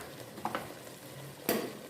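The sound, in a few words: goat meat being stir-fried with spices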